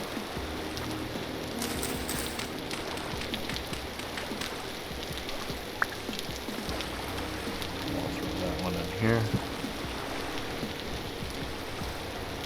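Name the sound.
rain falling in the video game Vintage Story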